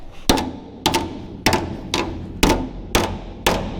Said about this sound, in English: We're just gonna hammer and dolly a few things, pull a couple dents